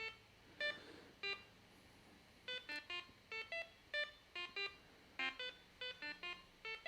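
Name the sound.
little beep sound effect played by a programming sketch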